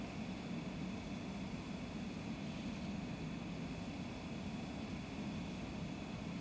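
Airliner jet engines roaring steadily through a takeoff roll in Microsoft Flight Simulator 2020, a constant broad rumble with a thin high whine held throughout, with no voices.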